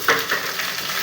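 Jute greens dropped into hot oil with browned onion, bay leaf and cumin give a short burst of close frying sizzle with a bit of stirring.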